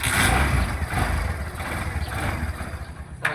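A cold Kawasaki Barako motorcycle engine starts quickly and settles into a loud, close, thumping idle with a steady low pulse.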